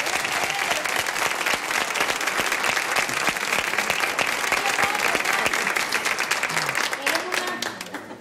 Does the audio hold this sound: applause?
yes